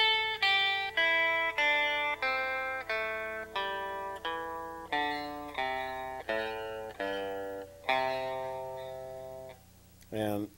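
Single guitar notes climb and descend a country-style A-form scale one at a time, each plucked note ringing clearly and decaying in an even, deliberate rhythm, close and unaccompanied.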